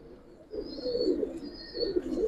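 Silver pigeons coo in low, rolling bursts, close and steady, with a faint higher tone above and no voices.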